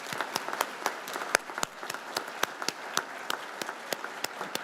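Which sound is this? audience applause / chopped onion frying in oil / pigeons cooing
audience applause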